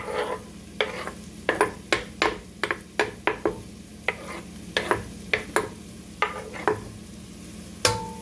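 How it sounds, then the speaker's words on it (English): Onion and garlic sautéing in a pot as the base for oyster stew, with a soft sizzle under about fifteen sharp, irregular scrapes and knocks of a utensil stirring against the pot. "So we just want to saute these to get it a little soft"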